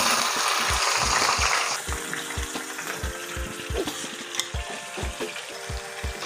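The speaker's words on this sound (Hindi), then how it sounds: "हमारा तेल गर्म हो गया, हम इसमें गोश्त डाल देंगे।" Beef pieces go into hot oil for Afghani gosht, giving a bright sizzle that rises sharply at the start, then steady frying with regular low knocks and scraping of stirring in the pan.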